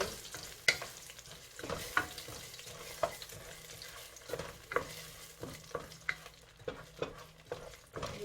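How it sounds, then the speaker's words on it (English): Sugar burning and browning in a pot for Guyanese stew chicken sizzles steadily while a utensil stirs and scrapes it in regular sharp strokes, close up and with no voices. "This is the sugar burning here."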